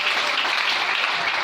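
A church congregation claps together to acclaim the Lord, a dense, even wash of loud applause.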